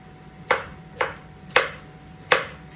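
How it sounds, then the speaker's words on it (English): Knife chopping cauliflower into small pieces on a cutting board, four crisp, evenly spaced chops standing out clearly against a quiet kitchen background with no talking. "So with the cauliflower, I'm going to just cut it into sort of smallish pieces."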